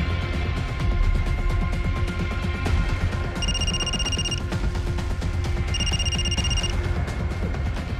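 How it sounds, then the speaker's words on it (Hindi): A telephone rings in two separate bursts of bright trilling rings, spaced a couple of seconds apart over a steady background hum in a TV courtroom drama scene, with no one speaking. "दानियाल का फ़ोन, इसको वक्त को भी चैन नहीं।"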